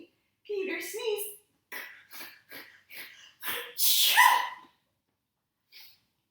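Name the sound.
narrator imitating a sneeze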